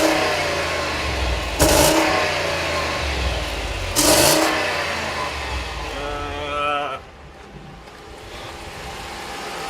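A 2014 Ram 2500 HD heavy-duty pickup engine cranks and starts, then revs in two sharp bursts before settling back to a steady idle, heard close and loud.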